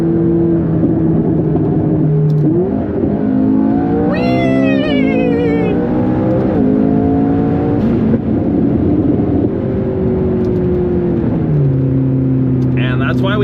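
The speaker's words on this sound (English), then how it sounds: "All right, one last pull on the McLaren." A McLaren makes a full-throttle pull, its engine droning loud and close while the revs climb in steps through several gear changes. A high whine rises over it partway through.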